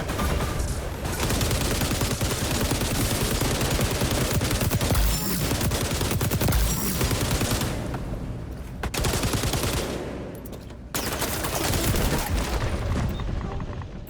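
Sustained, dense gunfire from the shooter game XDefiant, loud and continuous rapid bursts with a few short dips, no talking over it.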